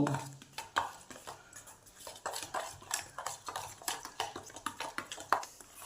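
Chopped onion, green chilli and ginger paste being mixed by hand in a bowl, giving irregular soft clinks, scrapes and wet squelches in quick bursts, close and fairly quiet.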